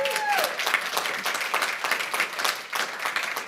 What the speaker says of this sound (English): can everyone just give a quick round of applause for Marnie?